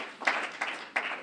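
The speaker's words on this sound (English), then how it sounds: "Now give yourself a hand clap." An audience claps in three short bursts at a community gathering, each swell of applause fading quickly before the next.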